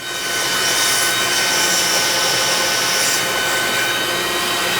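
Shop vac roaring steadily while sucking coolant out of a Ford truck's cooling system, a loud continuous broadband whoosh with airy hiss and no pauses or voices.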